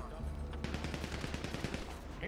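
Rapid gunfire in GTA RP on a NoPixel server, a quick run of repeated shots in a steady burst beneath a game background bed, moderately close but not loud.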